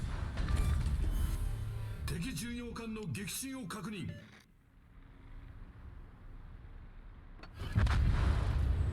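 Heavy naval gunfire from the Kremlin battleship in World of Warships booms out in a short cluster of deep rumbling blasts amid game noise, followed by a lull and another loud impact, with voices talking over it.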